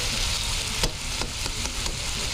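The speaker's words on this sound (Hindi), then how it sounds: "अच्छा सा इसको फ्राई करेंगे, इसके कलर चेंज होने तक।" Chicken pieces fry in a pan for chicken macaroni with tomato sauce, giving a steady close sizzle broken by a few sharp stirring clicks.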